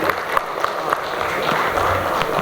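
A conference audience claps, producing a steady, moderately loud patter of many hands that rises slightly toward the end, with no talk over it.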